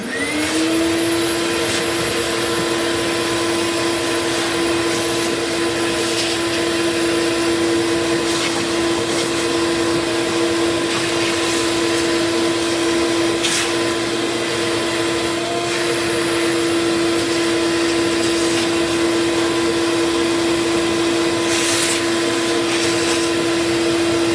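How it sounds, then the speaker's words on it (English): A vacuum cleaner roars continuously at close range, cleaning a PS5 console, a steady high whine with occasional rattling bumps as the nozzle moves over the surface. "we're going to go ahead and vacuum this sucker up"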